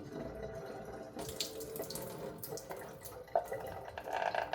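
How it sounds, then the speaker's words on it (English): Mushroom soaking water being poured out into a sink, a close splashing trickle that starts faintly, then swells into an uneven gurgling stream with small drips and splats. "You can hear I'm pouring out the water."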